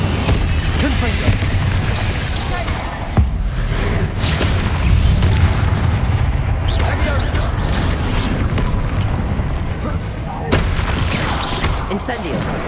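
Spell blasts from Confringo and Bombarda in the game Hogwarts Legacy land as heavy booms and crackling explosions, dense and loud through the whole stretch, with a voice speaking over them.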